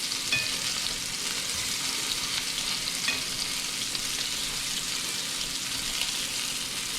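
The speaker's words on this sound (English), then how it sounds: "And flip over my sausage." Sausage fries in a pan with a dense, steady sizzle and crackle at moderate level. Faint clicks and small spatters break through the hiss, and there is no talking.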